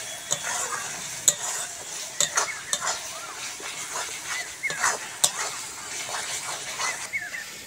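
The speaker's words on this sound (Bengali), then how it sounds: "মশলাটা আরো ভালো করে কষবো, যতক্ষণ না তেল ছাড়বে ততক্ষণ কষতে থাকবো।" Spice masala for chicken kosha sizzles in oil in a pan while being stirred, with steady frying hiss broken by repeated sharp scrapes and clinks of a spoon against the pan, close and fairly loud with no talk.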